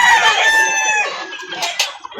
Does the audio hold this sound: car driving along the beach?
no